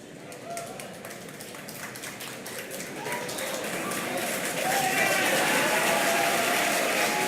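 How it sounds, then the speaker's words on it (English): Outdoor crowd at a SpaceX STP-2 launch viewing, cheering and clapping that swells and grows louder toward the end, with a commentator's voice over it. "You hear the crowd cheer behind me."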